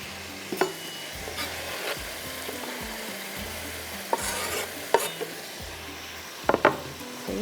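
Chopped tomatoes stirred in a cooking pot for chicken kalonji with tomato, with scraping and occasional sharp spoon knocks against the pot over a low steady sizzle, close by and without talk.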